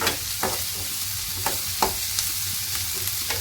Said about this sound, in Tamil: வெங்காயம் நல்லா கண்ணாடி பதத்துக்கு சிறந்து வருது.